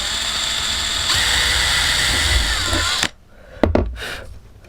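A power drill with a small 1.5mm bit whines steadily for about three seconds while boring a hole, then stops abruptly, leaving a couple of faint clicks and handling noises.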